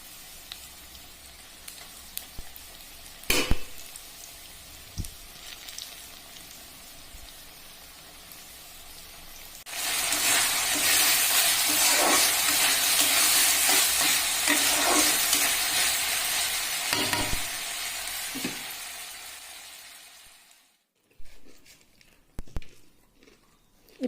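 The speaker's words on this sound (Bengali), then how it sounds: "এখন আমি যে পেঁয়াজগুলো ভেজে নিচ্ছি" Onions frying in oil in a home kitchen while Iftar is being prepared, with a few scattered clicks and utensil knocks before a loud, steady sizzle that carries on for about ten seconds, then cuts out abruptly, followed by faint clatter.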